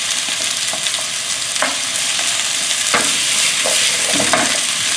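Zucchini and squash stir-frying in a hot pan, a loud continuous sizzle broken by occasional scrapes and tosses of a utensil, with no talking.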